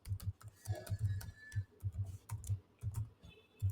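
Someone types C code on a computer keyboard, producing irregular bursts of close, crisp key clicks with short pauses between runs and no voices.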